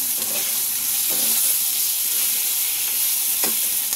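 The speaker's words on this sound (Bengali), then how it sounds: "মাছের মাথাটা ভেজে নিচ্ছি।" A fish head fries in hot oil in a pan for a cabbage muri ghonto, giving a steady, close, loud sizzle with occasional stirring scrapes and no talk.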